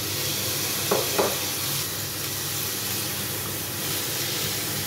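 Minced meat fries with pork belly and onion in a pan, a steady dense sizzle and hiss throughout, with two brief soft stirring knocks early on.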